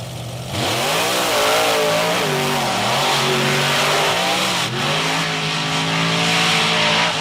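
Racing trucks on a sand drag course roar off the line, engines revving hard with rising and shifting pitch and tire spin, loud and continuous.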